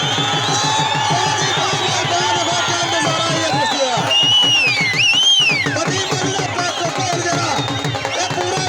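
Dense crowd noise at a wrestling dangal in Tehsil Panchari, a loud continuous hubbub of cheering and babble with whistles and shouts rising over it, without distinct clapping.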